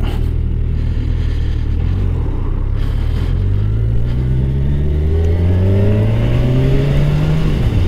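A Kawasaki Ninja 1000SX motorcycle accelerates hard in Sport mode, its engine note climbing steadily through the gears with rising, loud revs and a constant rumble throughout.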